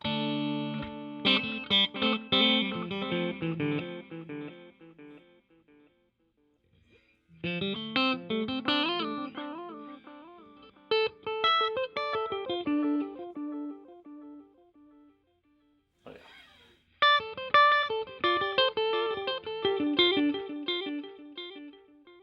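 Electric guitar played through a delay effect pedal from Donner, AFOT or Tarsal, with distorted chords and notes trailing into repeating echoes across several phrases separated by short pauses.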